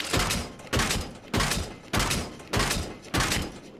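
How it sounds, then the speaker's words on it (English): Heavy vehicle-mounted machine gun in the video game Arma fires six evenly spaced loud bursts, each a sharp booming report with a rolling decay, repeating at a steady rhythm about every half second. "Also got a machine gun."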